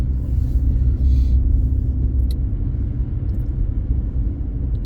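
A car rolls over a bumpy, snow-covered road in Montréal during the first snowfall, giving a loud, steady low rumble of tires and suspension inside the cabin, with a few faint knocks and no talk.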